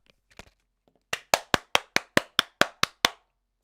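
A small group of people clap together during a live stream, about ten sharp, evenly spaced claps ringing out loud and close after a few faint taps.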